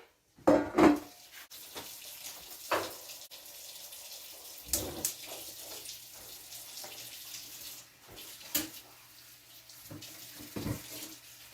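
Water pours steadily from a tap into a vessel, with a few clinks and knocks of metal cookware nearby.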